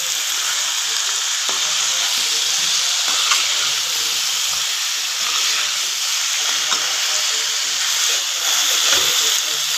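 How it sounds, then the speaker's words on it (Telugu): Country chicken curry spiced with chilli powder sizzles and hisses steadily in a pan while being stirred, with occasional soft scrapes of the spoon against the vessel; close, continuous and without talk. "ఇప్పుడు ఒకసారి మళ్ళీ బాగా కలుపుకోవాలి."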